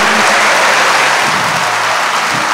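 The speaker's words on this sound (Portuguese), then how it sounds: "Aplauda essa terra boa do coração desse seu irmão que está aí." A church congregation applauds at a Catholic Mass, steady dense clapping that fills the room loudly from start to finish with no voice over it.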